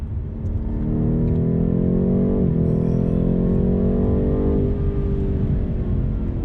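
A BMW M8 Competition on a large race circuit roars under hard revving, a loud sustained engine note that dips briefly mid-pass and then continues strong and close, with no talk.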